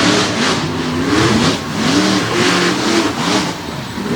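A monster truck with a 540 cubic inch Chevy engine revs hard at a Winchester monster truck event, loud and close, surging and dipping in about four rhythmic pulses of throaty engine roar.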